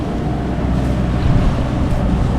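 A sailboat motoring at sea in haze off Tenerife, its engine a steady low rumble mixed with broadband wind and water wash, loud and continuous with no talk.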